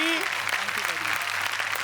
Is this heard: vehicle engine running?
no